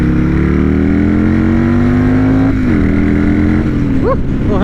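A Buell S1 Lightning's air-cooled V-twin pulls hard and loud up through the revs, its pitch climbing steadily, dipping briefly at a shift, then climbing again, close and continuous.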